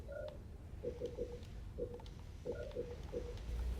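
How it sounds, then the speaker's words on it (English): Mobile phone button tones play in short, faint, evenly spaced beeps, grouped in clusters of three or four, over a steady low background hum, with no voices. "Sorry, I was just doing something on my phone."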